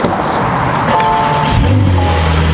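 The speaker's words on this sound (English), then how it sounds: "let's pull the car inside of the shop and start working on it" A Porsche 992 Carrera S, nearly new with rear wheel damage, is driven into a shop, its engine close and loud with a low rumble that lifts into a brief rev.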